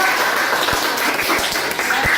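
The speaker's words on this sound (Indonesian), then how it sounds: "Tepuk tangan lagi untuk kelompok satu." Applause for group one during a teacher-training class presentation session: a roomful of people clapping in a steady, dense patter, with a few louder individual claps standing out, continuous throughout.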